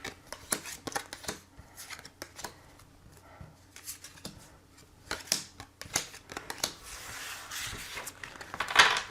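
Tarot cards are shuffled and drawn by hand, a run of quick papery riffles and flicks in uneven bursts, close and crisp, with no talking.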